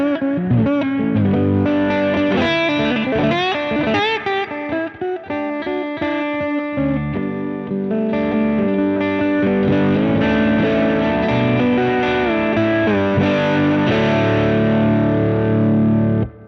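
A lap steel guitar played through a Mahogany pickup gives off continuous distorted, effects-laden notes and chords with sliding pitches for about sixteen seconds, with no talking.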